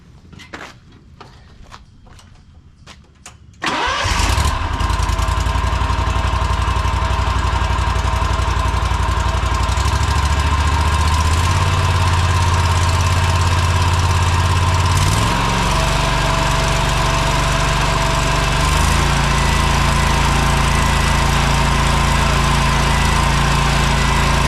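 A repaired small engine, likely a lawn mower type, starts after a few brief sounds and then runs loud and steady up close, its pitch shifting a few times as it settles.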